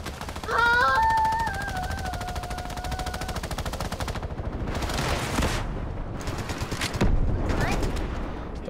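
A minigun firing in Fortnite, a long unbroken buzzing stream of rapid shots that then breaks into shorter bursts. Loud and close, with a brief synthetic tone near the start.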